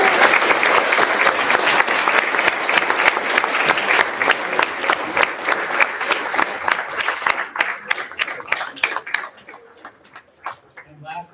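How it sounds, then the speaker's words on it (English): Audience applause at a demo day event, loud dense clapping from a crowd that thins out toward the end into scattered individual claps fading away. "So let's give a round of applause for them."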